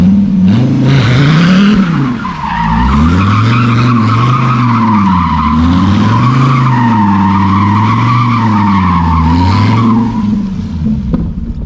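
Tires on a Dodge Viper ACR-E squeal loudly and continuously while the car is driven hard, a wavering screech that rises and falls over roaring engine noise, close and dominant throughout.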